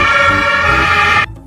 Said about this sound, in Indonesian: Wah, kalau yang ini mobil ambulans.